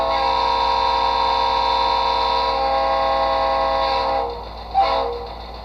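Train horn and locomotive sound from an HO model loco decoder played through paired iPhone speakers, a steady sustained multi-tone horn that cuts off near the end, followed by a brief bump, fairly loud and close.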